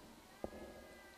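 In the horror video game Ju-On: The Grudge, a cat lets out a single short, faint meow against a quiet, low ambient background.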